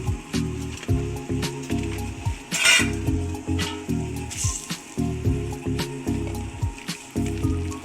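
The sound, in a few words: buttermilk coming to a boil in a pot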